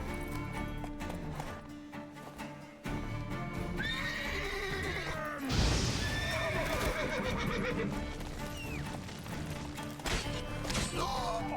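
A horse in The Witcher 3 gallops with rhythmic clip-clop hooves and lets out loud whinnies and neighs, with a crashing impact partway through, all close and prominent in the game mix.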